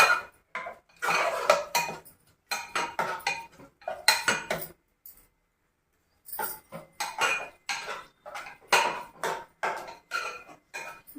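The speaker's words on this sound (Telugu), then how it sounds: "బాగా నేతిలో ఇట్లా ఫ్రై చేయండి." Bottle gourd pieces frying in ghee for halwa, stirred in a metal pan: repeated bursts of clattering, scraping spatula strokes with a short pause midway, close and fairly loud, no talking.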